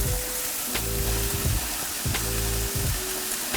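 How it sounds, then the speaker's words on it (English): Carrot and zucchini fry in oil, sizzling steadily and crackling. Clanks of a utensil stirring the pan come through at intervals, and no speech is heard. "And then you can add in your carrot and zucchini and we'll stir or leave it to sit for about 4 minutes"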